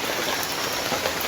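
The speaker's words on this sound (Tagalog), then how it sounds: "Ulan, hanggang ngayon ulan." Steady rain pours down and patters on surfaces in a dense, even hiss with no pauses or voices.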